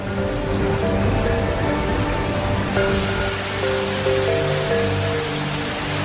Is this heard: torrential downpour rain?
yes